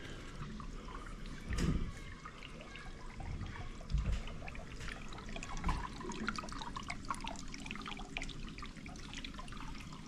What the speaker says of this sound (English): We're running the tub, which is coming from here, running into this one.